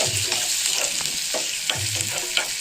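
Garlic and onion sizzle and fry in a pan for tomato soup, a steady crackling hiss broken by several scraping stirs of a spoon at close range.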